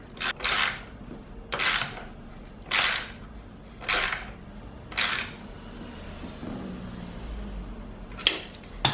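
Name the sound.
tightening nut with 19mm wrench to press in bearing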